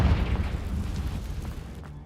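A Confringo fire spell explodes in Hogwarts Legacy, a deep booming blast with a dense low rumble that lingers and slowly fades over a couple of seconds, fairly loud and close.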